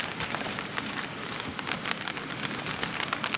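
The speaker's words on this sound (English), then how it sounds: "And here comes the rain." Steady rain pattering on a surface in the Bob Marshall Wilderness of Montana, a continuous dense hiss of drops with scattered sharper taps, moderately loud and unbroken throughout.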